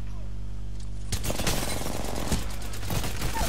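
Rapid gunfire bursts in the battle royale shooter Apex Legends, dense and loud from about a second in, continuing steadily over a low game hum, with commentary voice mixed in.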